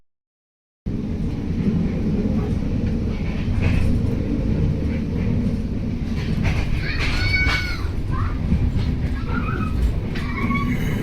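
Maitree Express passenger train from Dhaka to Kolkata running on rails, a continuous loud rumble and clatter of wheels with a few high squeals, heard close and steady throughout.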